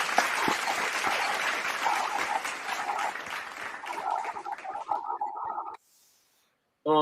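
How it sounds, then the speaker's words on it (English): Audience applause for a friend on a podcast-style show, dense clapping that fades out around five seconds, leaving near silence before a short loud burst returns at the very end. "let's give a round of applause for our friend Duke Loves Wrestling"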